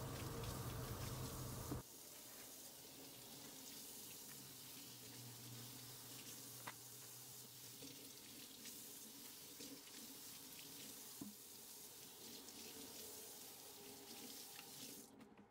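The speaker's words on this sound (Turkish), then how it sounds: "Musluk altında arkalı önlü olacak şekilde her tarafını ıslatarak üst üste alıyorum." Water running from a kitchen tap over dry yufka pastry sheets being wetted on both sides, a steady hissing stream that shifts in tone as the sheets pass under it, heard alone.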